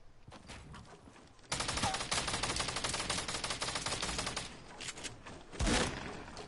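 Sustained automatic gunfire in a shooter video game, a dense rapid burst of shots that starts abruptly and continues loud and unbroken, with a heavier blast near the end.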